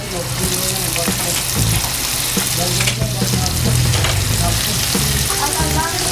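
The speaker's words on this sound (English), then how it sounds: "Skin on first. To the nice hot oil." Flour-dusted snook fillets fry in hot oil, skin side first, with a loud, close, continuous sizzle and crackle, plus occasional clatter and a low background hum.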